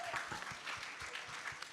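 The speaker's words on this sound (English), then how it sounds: "Let's give a big round of applause to them" An audience claps for the guests of a panel discussion, a brief burst of dense, fairly even applause with a few stronger individual claps standing out.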